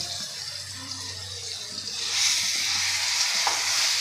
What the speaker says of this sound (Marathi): आता तेलामध्ये आपण एकदम मोकळी सुटसुटीत होईपर्यंत परतून घ्यायचे आहे